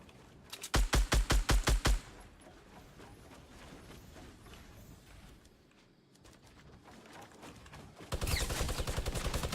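Gunfire in the video game Fortnite, starting with a loud rapid burst of about eight shots, then quieter scattered firing and mechanical clatter, ending with another fast, loud volley.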